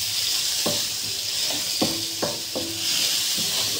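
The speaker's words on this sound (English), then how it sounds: "Then I stir my onion." Onions frying in a pan for a fish dish, a strong steady sizzle punctuated by several spaced scrapes and taps of the stirring utensil, without any talking.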